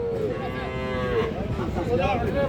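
Young bull calves about five months old at a cattle market give a loud, sustained low moo close by, with a steady drone of crowd and market noise underneath.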